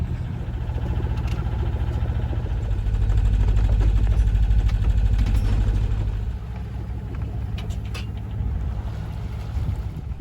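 Sailboat's engine running steadily while motoring on a calm passage from Portugal to the Canary Islands, a loud continuous low drone that swells in the middle, then eases back to a lower hum, with no voices.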